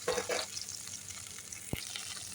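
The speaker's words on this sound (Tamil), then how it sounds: "எண்ணெய் ஹீட் ஆனவுடனே நம்ம கட் பண்ணி வச்சுருந்தா வெண்டங்காயை சேர்த்துக்கலாம்" Cut okra hits hot oil in a kadai and fries with a soft, quiet sizzle, with a couple of small knocks early on and a sharp tap near the end.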